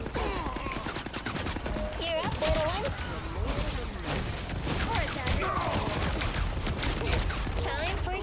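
In the Marvel Rivals video game, a rapid string of mine explosions pops and crackles over busy combat effects while a player talks throughout.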